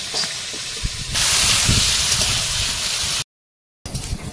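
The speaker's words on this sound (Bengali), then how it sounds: "এবারে আলুটা ভেজে নেব।" Potatoes fry in hot oil over a cooking fire outdoors by a riverbank, with a loud, steady sizzling hiss that swells after a second, runs continuously, then cuts off briefly before resuming.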